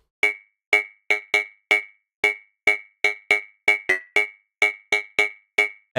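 A minimal pluck synth preset called Plug Streams, for house music, plays short, dry, bright plucked notes, about sixteen in a steady, slightly syncopated pattern, each cut off quickly, alone with no voice.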